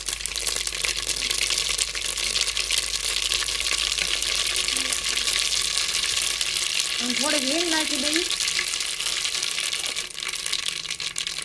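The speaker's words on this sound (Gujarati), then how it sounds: "અને લીલા મરસાં કટકા કર્યા એ નાખી દઉં" Chopped green chili pieces frying in hot oil for a tempering over ready-made khaman, a loud, continuous close sizzle and hiss that carries on without a break.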